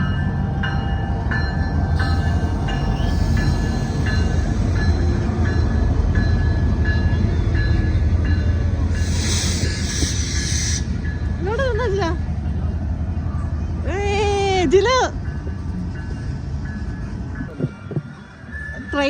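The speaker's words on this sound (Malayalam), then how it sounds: "ഇതാണ് കനേഡിയൻ പസഫിക് ക്രിസ്മസ് ട്രെയിൻ" A Canadian Pacific Christmas train rumbles steadily past, with squealing metal tones and horn-like pitched sounds near the end while people talk faintly nearby.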